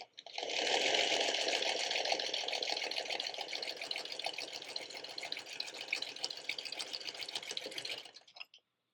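A sewing machine runs continuously stitching quilt pieces for a Sawtooth Star block, a fast even mechanical whir and rattle at close range, stopping abruptly near the end.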